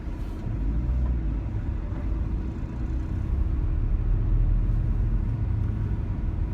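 Road traffic moving along at a moderate pace, a broad low rumble of passing cars and heavier vehicles that holds steady throughout, with no voices.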